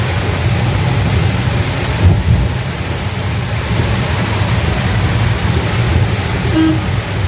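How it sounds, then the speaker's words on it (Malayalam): A heavy downpour near Theekoy on the road to Vagamon in Kerala makes a dense, loud, unbroken roar with a low rumbling undertone. No voices are heard. "മഴ ഇപ്പോൾ ഭയങ്കരമായിട്ട് കൂടി, നമുക്ക് കണ്ണൊന്നും കാണാൻ പറ്റാത്ത അവസ്ഥയാണ്."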